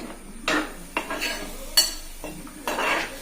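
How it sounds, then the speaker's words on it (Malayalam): A spoon scrapes and clinks in a pan while ginger curry (inji curry) is stirred, giving several distinct metallic strokes at a close, moderate level. "നമുക്ക് നല്ലപോലെ ഇളക്കാവേ."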